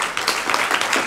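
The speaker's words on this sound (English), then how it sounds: "Please, guys, a big round of applause." An audience applauds a special guest in a brief, dense burst of clapping that holds steady throughout.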